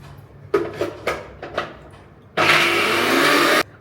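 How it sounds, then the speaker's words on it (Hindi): A kitchen blender grinds a paste in a short continuous burst of loud whirring that starts abruptly and cuts off after about a second, preceded by several clinks and knocks of the jar being handled. "अब हम इसे फिर से ब्लेंड कर देंगे।"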